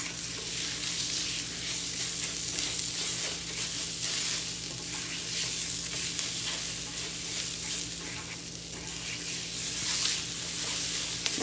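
Onion sizzles steadily in a hot pan while being stirred for Mexican red rice, a dense continuous frying hiss that stays close and even throughout with no talk.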